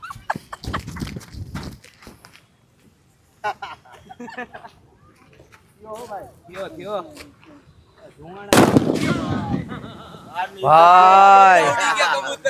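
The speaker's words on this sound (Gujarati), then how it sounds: "ફટાકડો અહીંયા હે ફોડે છે આપણે જોઈએ કેવું કેનું અવાજ આવે" A loud firecracker bursts in an open area in Rajkot during preparations for a Ravan Dahan burning, a sharp crack followed by echoing rumble, with voices talking before and around the blast.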